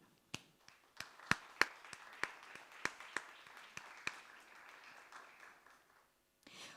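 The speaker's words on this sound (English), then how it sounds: "Join me in a round of applause to recognize this momentous occasion" Sparse, scattered clapping from an audience at a closing ceremony, individual sharp claps spaced irregularly and fairly faint, dying away near the end before a short burst resumes.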